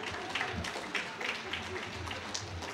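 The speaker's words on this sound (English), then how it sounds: "only half the audience is applauding on that" Audience applause at a university political talk, thin and partial, with scattered claps rising and falling at moderate level beneath a speaking voice.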